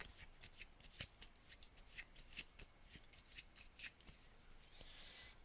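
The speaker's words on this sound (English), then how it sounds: "And then I'll just shuffle all of these together." Playing cards being shuffled together by hand in a quiet room, a series of crisp riffling bursts and soft card slaps spread across several seconds, close and fairly faint.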